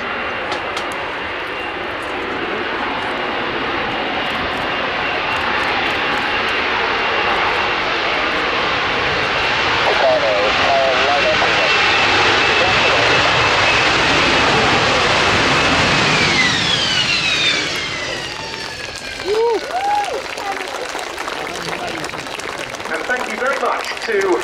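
A Spanish Navy AV-8B Harrier II Plus jet flies past at an air day at Yeovilton, Somerset, its loud, steady engine roar swelling and then fading with a shifting whine as it passes, while a crowd murmurs beneath.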